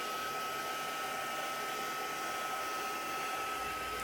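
A hair dryer blows steadily and loudly on a journal page painted with coffee, a constant broadband whoosh with a faint steady whine that runs unbroken throughout, alone with no voices.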